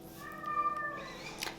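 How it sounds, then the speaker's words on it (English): A hungry house cat meows loudly and insistently, a drawn-out whining yowl followed by a shorter cry, close by indoors. "She's just throwing a tantrum because she's hungry."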